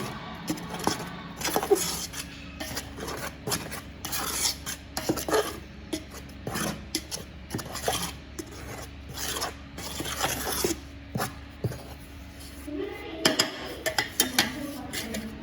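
Flour dough for crispy braided pinnal paniyaram sweet is mixed by hand in a bowl, giving steady close rubbing and rasping scrapes with occasional clinks against the bowl, continuing throughout.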